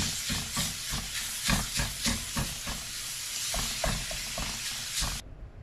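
Seasoned mild pork sausage browning in a pan, a loud hissing sizzle with rhythmic scraping and stirring strokes, close up, cutting off abruptly near the end.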